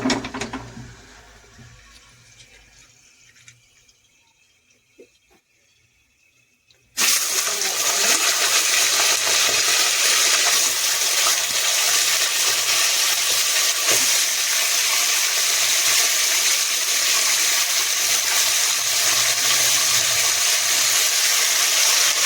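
Chicken pieces sizzle and fry in hot oil inside a pressure cooker for chicken curry, a loud, steady crackling hiss that starts abruptly after a quiet, low-level opening and then runs continuously.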